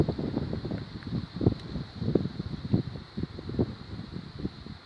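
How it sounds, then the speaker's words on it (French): Gusty wind of moderate strength, gusting to about 50 km/h, rushing past outdoors on a cold day, with repeated low buffets and a faint steady hiss behind them; no talking. "juste le vent."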